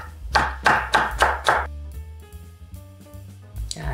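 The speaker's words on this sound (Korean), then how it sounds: "호박은 얇게 채를 썰어 줄 거예요" A knife slicing zucchini into thin strips on a cutting board: five quick, crisp taps in a steady rhythm, close and clear, followed by a quieter pause and then one more cut.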